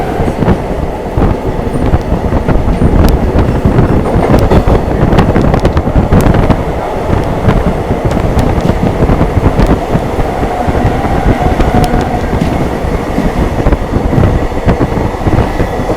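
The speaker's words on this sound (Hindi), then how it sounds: "सूबेदारगंज को अपनी ट्रेन भाई स्किप कर रही है इस समय सही रफ्तार में।" The Prayagraj–Dadri Summer Special Train races through Subedarganj station at speed, a loud, continuous rumble with rapid rail clatter and heavy wind buffeting the microphone, with no talk.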